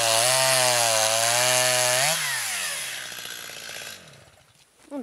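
A chainsaw cuts firewood logs beside a road, its loud, steady engine whine bending in pitch as the blade bites into the wood, then easing and fading out near the end.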